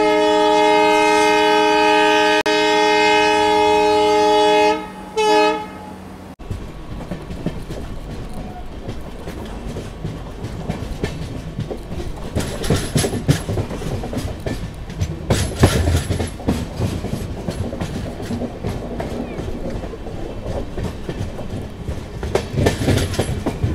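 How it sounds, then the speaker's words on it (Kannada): The Yesvantpur to Mysore passenger train via Hassan sounds a long, loud horn blast, then runs on with a steady rumble and rhythmic wheel clatter close by. "ಯಶವಂತಪುರದಿಂದ ಮೈಸೂರು ವಯಾ ಹಾಸನ್ಗೆ ಹೋಗುವ ಟ್ರೈನ್ ಇದು"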